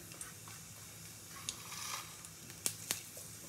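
Dried chili and black cumin fry in hot oil with a soft, quiet sizzle, broken by a few sharp pops and crackles near the end.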